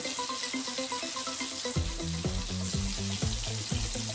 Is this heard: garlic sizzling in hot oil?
yes